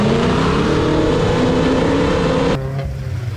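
A drift car's engine drones loud and steady during racing in a pouring rainstorm, then drops abruptly to a lower idle-like hum near the end.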